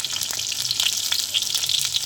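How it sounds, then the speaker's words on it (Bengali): Oil sizzles steadily in a pan as potatoes fry, a close, constant crackling hiss with occasional stirring sounds. "ওগুলো ভেজে নেব"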